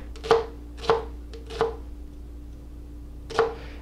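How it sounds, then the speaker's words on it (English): A knife chops through ingredients for beer-braised beef shanks on a cutting board, four crisp, loud strikes spaced unevenly, with a pause before the last, and no voices. "I can simply slice these up to go down in my dish"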